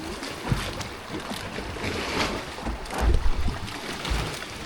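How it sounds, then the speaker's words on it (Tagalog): Rough water sloshing and slapping against a boat hull near a small island, with irregular surges and gusty wind noise, loud and close. "talagang malakas yung alon"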